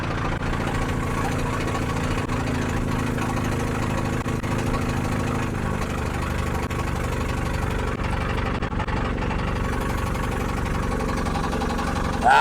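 An old engine with no brakes idles with a continuous rough, uneven rumble, loud and close throughout, given a little throttle.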